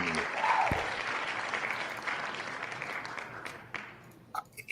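Canned applause from live broadcast software, a steady wash of clapping that fades out over several seconds, with a few brief louder sounds near the end.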